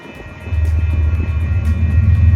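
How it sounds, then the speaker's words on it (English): A train rumbles past a neighborhood in Keller, Texas with a deep, steady roar that swells after a moment and keeps building, loud and close. "you can hear that train going by."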